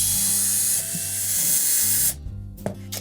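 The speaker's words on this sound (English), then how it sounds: "So simply remove all the retaining screws." A driver or ratchet whirs and clicks while removing 1/4 inch hex head retaining screws from the cardboard back panel of a Whirlpool refrigerator, a close, continuous buzzing run that cuts off abruptly and leaves a few faint clicks.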